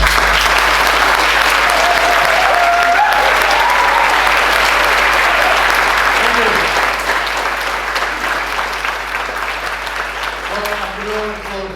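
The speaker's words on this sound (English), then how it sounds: "So give a round of applause to Bob" A concert audience at a youth band's 50th anniversary concert gives Bob loud, sustained applause, a dense wash of clapping that gradually thins toward the end, with faint voices and a brief tone underneath.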